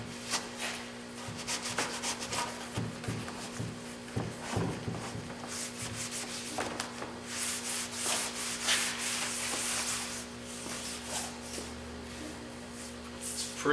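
A wet cloth wiping excess glue off the mitered joint of a postform Formica laminate countertop, a steady rubbing scrub that runs continuously and close by, with no talk.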